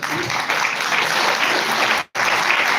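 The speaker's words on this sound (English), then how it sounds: "May I have a huge round of applause for him?" A large audience applauds a speaker at a live event, dense, steady clapping filling the space and broken by one abrupt, near-silent dropout before continuing at full strength.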